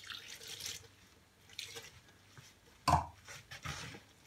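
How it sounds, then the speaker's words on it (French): Lukewarm water poured by hand into bread dough ingredients in a kitchen, heard as faint, intermittent splashing and trickling with a brief louder slosh near the end, quiet and close. "je vais mettre l'eau tiède."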